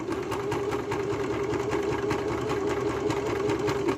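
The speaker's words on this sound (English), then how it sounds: "we're going to sew from that corner to that corner" A sewing machine runs continuously, stitching fabric strips together corner to corner for a jellyroll rug made from a duvet cover, its rapid mechanical needle chatter steady and close, with no talking.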